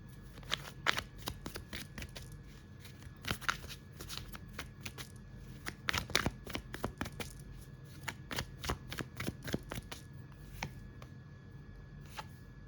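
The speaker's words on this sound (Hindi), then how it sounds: "Let's take out few more cards." Tarot cards are shuffled and pulled from the deck in quick bursts of crisp riffling and snapping, close and fairly quiet, with short gaps between the bursts and no speech.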